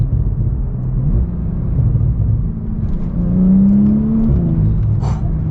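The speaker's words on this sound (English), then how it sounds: "Turbo noise is so good," A modified 1,000-horsepower Porsche 911 Turbo accelerates hard, its engine and turbo whir building into a loud, steady rumble with rising pitch and a brief crackle near the end.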